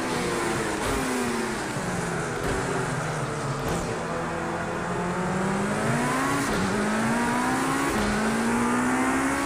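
A race car engine in the video game Project CARS 2 drones continuously at Daytona, its pitch rising and dipping as it shifts gears and revs, loud and close throughout.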